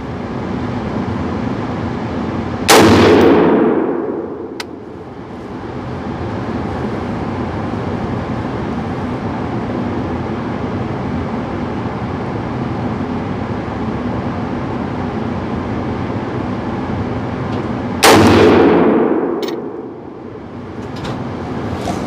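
Two sharp, loud shots from a Loki Weapon Systems AR-15 rifle, about fifteen seconds apart, each ringing out and decaying over steady outdoor background noise, with faint ejected shells landing after the first shot.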